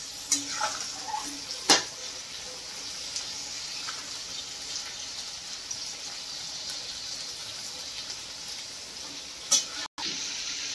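Chopped onion and three medium tomatoes sauté in a pan for prawn biryani, giving a steady close sizzle with a few sharp clinks of a stirring spoon, with no talking.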